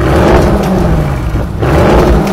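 A powerful V8 Audi RS engine revs loudly through a carbon exhaust with a deep, throaty roar, dipping briefly before surging again.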